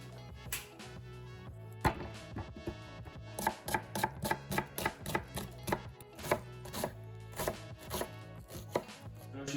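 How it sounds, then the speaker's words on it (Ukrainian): Rapid knife chops dicing garlic and onion on a cutting board, irregular at first and then settling into a quick steady rhythm, close and clear with no talking. "Все це беремо і нарізаємо на кубик."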